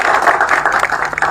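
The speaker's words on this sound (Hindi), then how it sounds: "जोरदार तालियों से स्वागत करें सम्मान का।" An audience claps at the inauguration of a gymnasium building at a public event. The applause is loud, close and irregular, with a choppy rhythm of many hands across the whole span.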